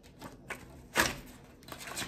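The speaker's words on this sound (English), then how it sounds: "These are super hard to shuffle." A deck of tarot-style cards being shuffled with some difficulty, giving a few soft riffling bursts and one louder flurry of cards slapping together, close up and with no talking.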